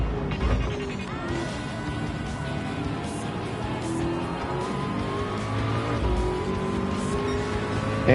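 Race cars in Gran Turismo 7 at Daytona roar continuously with engine drone, tire squeal and repeated thuds of collisions as the cars bump into one another, a loud busy pack sound throughout.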